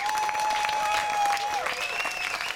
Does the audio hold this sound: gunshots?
no